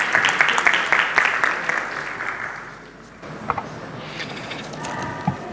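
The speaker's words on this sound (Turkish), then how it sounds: "Alkışlarınızla." Applause from the audience at a capital markets congress panel opening, a lively round of clapping that fades out midway, followed by quieter room noise with a few isolated claps and knocks.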